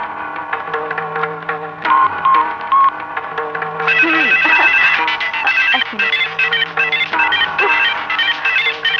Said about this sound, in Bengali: আরে বাপ, ফোনটা ধর।